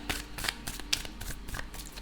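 A deck of tarot cards is riffled and shuffled in quick, crisp bursts, close and fairly quiet, with no voice over it.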